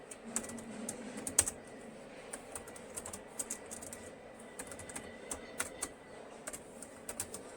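Quiet, irregular key clicks from code being typed on a computer keyboard, a steady patter of taps with occasional louder strokes, close to the microphone, with no talking.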